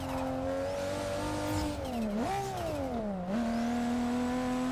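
Car engine in Forza Motorsport 6, driven with a Logitech G920 wheel while drifting, holding a steady high drone that swoops up and down through revs with a quick clutch kick, loud and continuous.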